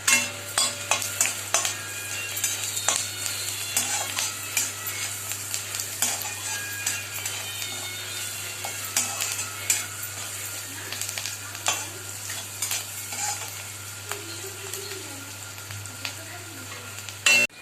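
Onions sizzle in hot oil in a pan for a fish curry, a steady close frying hiss broken by repeated scraping and clinking of a spoon stirring, with a low steady hum beneath and no talking.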